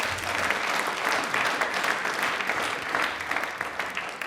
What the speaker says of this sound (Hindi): तालियां प्लीज एक बार जोरदार हो जाएं।